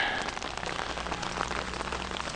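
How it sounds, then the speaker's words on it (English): Steady rain falling and pattering on a surface, a dense continuous hiss with scattered drops, fairly close and moderately loud. "And hallelujah, it's raining."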